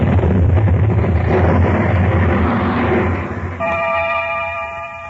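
A loud, deep explosion roars and rumbles for several seconds, then decays into a lingering low rumble with a faint ringing tone.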